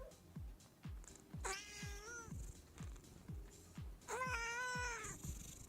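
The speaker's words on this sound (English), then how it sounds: "Oh, that was a lot of cat noises." A ship's cat in a space game gives two drawn-out, wavering meows over a backdrop of regular soft thumping pulses, fairly quiet overall, with no speech.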